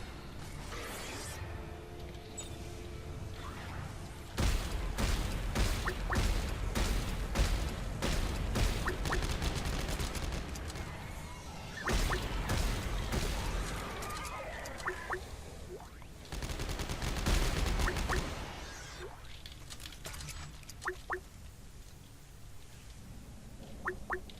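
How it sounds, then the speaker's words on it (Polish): Rapid bursts of triple-shot weapon fire in the co-op game Dead Space 3, with clusters of sharp repeated shots interrupted by brief pauses and whooshing impacts, loud against quiet background game sound. "Biorę potrójny strzał."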